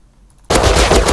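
Rapid automatic gunfire in the survival video game Rust bursts in suddenly and stays loud and dense to the end after a quiet start.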